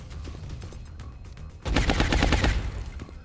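A rapid burst of automatic gunfire from heat ammo in the video game XCOM: Long War erupts loud and close after a quieter stretch of game ambience, lasting about a second.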